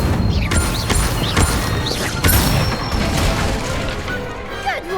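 Incendio fire spell cast repeatedly in Hogwarts Legacy alongside other wand spells, with sharp whooshing bursts and crackling booms at irregular intervals over steady game ambience.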